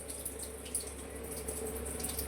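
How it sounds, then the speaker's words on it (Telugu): Soaking water being poured off rice through a colander or sieve while making prawn biryani, a steady close running-water stream like a tap flowing, with light splashing throughout. "మనం నానబెట్టుకున్నాం కదండి, ఆ నీళ్ళు బాగా వార్చుకోవాలి"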